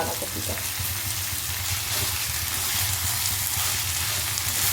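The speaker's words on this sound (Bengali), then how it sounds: "এবারে দিয়ে দিচ্ছি ধুয়ে রাখা যে বাঁধাকপিটা" Washed cabbage hitting hot spice paste in a pan for a fish-head cabbage dish, giving a steady, close, broadband frying sizzle that holds for the whole stretch with a low hum beneath.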